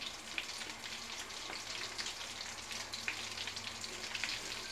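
Tomato, onion and cilantro fry in a pan on a home stove in Salvador, Bahia, giving a faint, steady sizzle with small crackles and pops and no voices.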